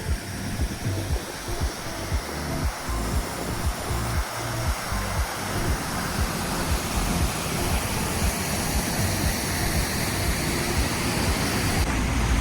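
A waterfall beside the NH66 highway at Kasaragod, in heavy monsoon rain, roars steadily and loudly, a dense continuous rush of falling water with no voices.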